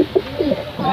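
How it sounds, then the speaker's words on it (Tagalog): Racing pigeons cooing close by in a loft: several soft, low, rolling coos that overlap within about a second, over light background noise. "Yan dito mga kalapatids."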